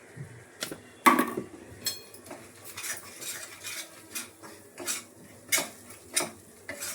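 Metal utensil scraping and clinking in a pan as spices are stirred into butter, a steady series of close, sharp scrapes and taps with no one talking.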